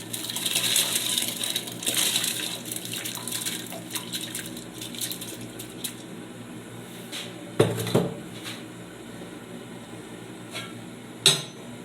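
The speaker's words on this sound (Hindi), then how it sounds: "चावल डाल देंगे।" Dry rice tipped into a pot of boiling water in a home kitchen while making chicken dum biryani, a pouring rush at first, then a few close clinks and knocks of the pot over a steady bubbling hiss.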